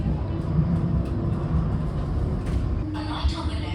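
A Brussels tram rolls along its line with a steady low rumble and rail hum. Brief squeals and clatter rise near the end, and the sound stays close and continuous throughout.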